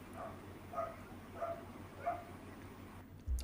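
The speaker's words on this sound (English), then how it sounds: "Sorry about the dogs in the background. They also want to be involved in the stream." Dogs bark faintly in the background of a home chess stream, four or five short, evenly spaced yaps that sound muffled and distant, with no talk over them.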